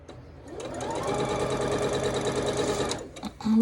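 Sewing machine stitching quilt sashing fabric for an Adore quilt, a steady close, loud motor whir running for about two seconds before slowing and stopping, followed by a brief clunk.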